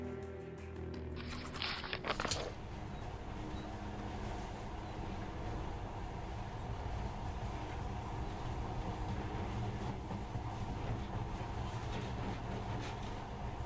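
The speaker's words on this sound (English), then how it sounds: "In the past, trains were ordinary things. But now, this monorail seems magic, doesn't it?" A monorail train runs in the video game Metro Last Light, a continuous low rumble and clatter of the cars in motion, steady and fairly loud after a brief burst of sharper sounds at the start.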